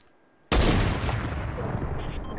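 A single loud hunting rifle shot in Fortnite cracks out suddenly and rings into a long, dense decaying tail with faint high pings trailing after.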